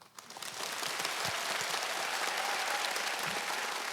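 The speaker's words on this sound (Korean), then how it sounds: "서울대학교 유성호 교수님을 큰 박수로 모시겠습니다." An audience in a lecture hall breaks into applause to welcome forensic scientist Professor Yoo Seong-ho of Seoul National University, a dense crowd clapping that swells within half a second and stays steady and full.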